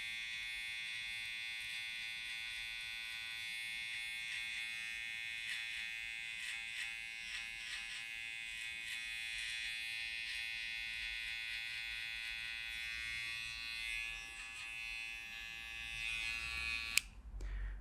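A barber's finishing trimmer buzzes steadily and close up during a high fade flat top haircut, a continuous bright electric whine that holds for about seventeen seconds before a sharp click near the end.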